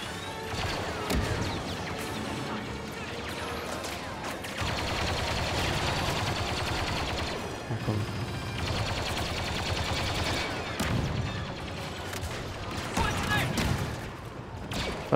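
Rapid minigun fire from Star Wars Battlefront 2 comes in long sustained bursts with crashing impacts, loud and dense across most of the stretch, with voices mixed in.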